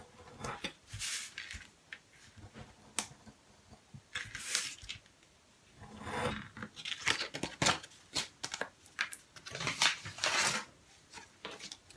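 Scissors snip through paper while a craft template's title opening is cut out, giving soft, close, irregular bursts of crisp cutting and paper rustle separated by brief pauses.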